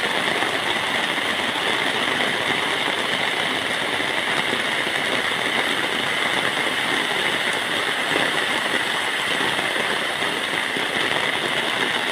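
Heavy rain from a storm falls steadily and densely for the whole stretch, a loud, unbroken wash of hiss with no voices.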